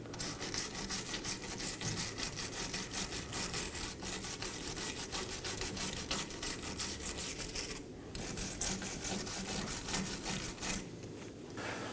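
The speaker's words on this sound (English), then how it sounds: "Now I'm going to prep the face of the knuckle with a wire brush. Get off as much corrosion as you can." A wire brush scrubs corrosion off the face of a steering knuckle on a 2018-2024 Chevrolet Equinox 1.5L with rapid, rhythmic back-and-forth strokes. The rasping continues close up for the whole stretch, pausing only briefly.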